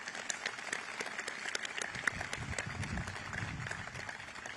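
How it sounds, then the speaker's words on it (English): An audience gives fairly faint, continuous applause at a US military Joint Force ceremony. Scattered sharp claps stand out above a low rumble. "Let's give your mom a big round of applause."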